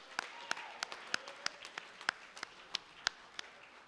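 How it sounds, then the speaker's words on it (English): Sparse, scattered handclaps from a small audience at a high school fall athletics celebration, honoring the cross-country team; individual claps ring out fairly distinctly at a moderate level rather than as a dense ovation. "Big round of applause for that cross-country team"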